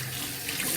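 Ingredients rinsed under a running kitchen tap, a steady close rush of water filling the short moment without any voices.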